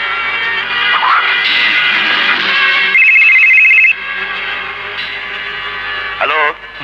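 A telephone rings in a Bangladeshi film scene, a bright electronic trill lasting about a second, set amid loud dialogue and a dense musical score, with voices speaking before and after.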